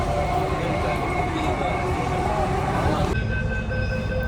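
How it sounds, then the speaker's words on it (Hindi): A metro train runs along its track with a loud, continuous rumble and a high whine over it; the roar drops away abruptly near the end, leaving thinner tones. "तुमने कभी मेट्रो को पीछे से चलते हुए नहीं देखा होगा"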